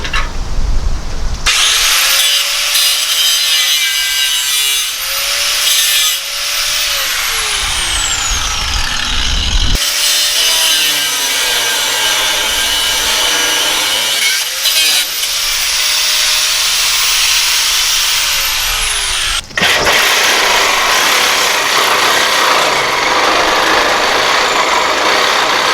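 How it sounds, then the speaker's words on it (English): A Sawzall reciprocating saw cuts through exhaust manifold studs on a 1995 Ford F250, a loud, harsh continuous buzzing rasp that surges and dips over about twenty-five seconds with brief pauses between cuts. "I'll cut these studs with the Sawzall"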